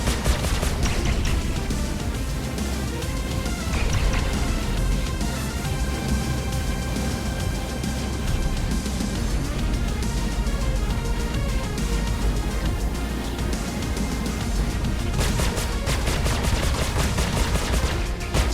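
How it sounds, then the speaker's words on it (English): Spaceship guns fire in rapid bursts during a dogfight between a Drake Buccaneer and an Anvil Super Hornet in the Star Citizen video game. Dense, continuous gunfire dominates throughout with no talking. "He just keeps circling and trying to hit me with his guns."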